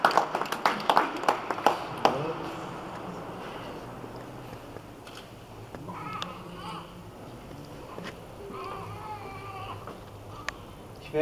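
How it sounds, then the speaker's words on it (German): Guests at a baptism clap in welcome for a newly baptized girl, a burst of sharp, irregular hand claps in the first two seconds that gives way to quieter room murmur and faint voices. "Wir begrüßen dich ganz herzlich und können dabei einen Applaus geben."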